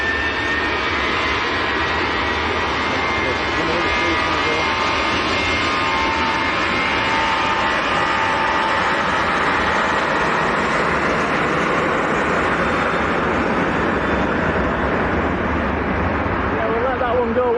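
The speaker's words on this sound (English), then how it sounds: "there's a Ryanair about to roll" A Ryanair jet airliner at Manchester Airport produces a constant, loud broadband engine roar that stays steady throughout, with people talking underneath.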